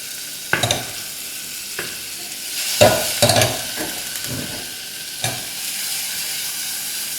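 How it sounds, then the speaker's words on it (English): Onions, ginger and garlic sizzle in a pan of hot oil for a prawn and green mango curry, with a constant frying hiss broken by a few sharp stirring scrapes and clatters of the spoon, close up and without talk. "we'll just fry this until the onions becomes soft"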